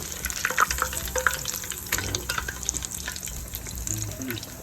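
Pork ribs deep fry in hot oil with a steady bubbling sizzle, punctuated by scattered sharp pops and crackles and faint clinks of cooking tools.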